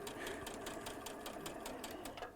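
A sewing machine stitching steadily at a demonstration in a sewing shop, its needle ticking in a fast even rhythm close by, running alone without talk over it.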